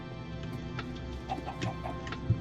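Chickens in the Minecraft video game cluck softly a few times, faint and quiet, with small ticking sounds and no voices.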